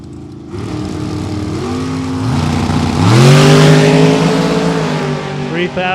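Drag race at a dragstrip: a Camaro and a dragster launch side by side, engines rising in a loud, swelling roar that climbs in pitch and peaks mid-run, with crowd and announcer noise underneath.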